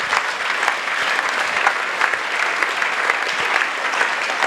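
Audience at an evangelism and deliverance crusade in Douala claps steadily and loudly, a dense continuous wash of applause from a large crowd with no break.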